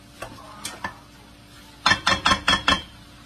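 Garlic, onion and ginger stirred in a pan for bopis: a few light scrapes at first, then five loud, evenly spaced scraping strokes with faint sizzling underneath, close up.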